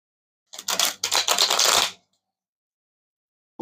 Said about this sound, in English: So a wash is perfect when you shuffle.